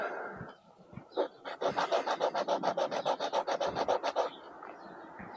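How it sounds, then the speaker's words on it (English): Sandpaper pushed against a damper rod tool to resurface it, a quick run of about fifteen rhythmic rasping strokes, close and fairly quiet, after a few scattered rubs. "just take a piece of sandpaper, push it against, and just resurface it"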